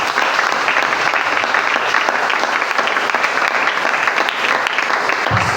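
A church congregation claps and cheers in loud, sustained applause that fills the room evenly from start to finish, with no pause.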